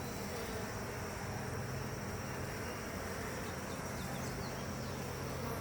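A thriving honeybee hive hums steadily and close while its frames of brood and nectar are lifted out for inspection, a dense unbroken buzz with no talking.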